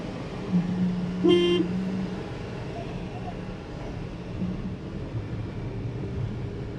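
Traffic around a bus station in an Indian town, with one clear horn honk early on over a low rumble of engines and street noise, then steady background traffic.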